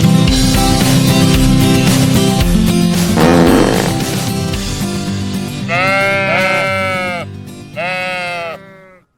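Bleats of black sheep come over a busy nursery-rhyme music bed: several wavering, pitch-bending cries, clustered in two loud bursts near the end and then cut off abruptly.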